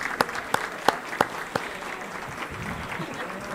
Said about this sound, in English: So one more round of applause for TMI and a wonderful presentation this morning.